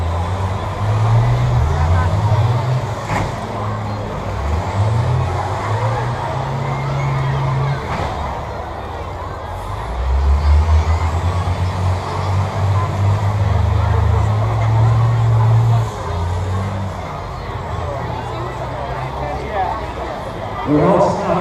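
Heavy bus engines rumble and labor at a county fair bus demolition derby, a steady low drone with surges and occasional knocks, heard under a crowd and a public-address announcer.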